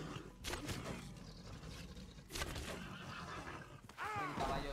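A horse in the video game Red Dead Redemption 2 whinnies over a steady wash of background noise, with the neigh rising clearly near the end.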